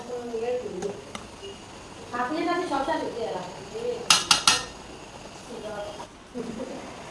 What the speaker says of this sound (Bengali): এখন হচ্ছে ভালোভাবে নেড়ে চেড়ে নিচ্ছি